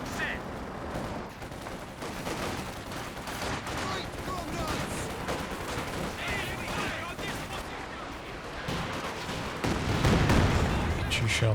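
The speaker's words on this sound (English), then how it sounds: "Katyusha out the back on the Recon after it got revealed by the Sherman." Katyusha rocket artillery fires in the Company of Heroes 2 video game, a dense, continuous barrage of whooshing launches and explosions amid battlefield gunfire, with a commentator talking over it.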